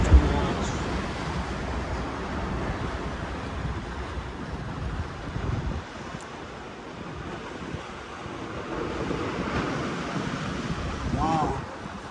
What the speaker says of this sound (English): That is the Indian Ocean.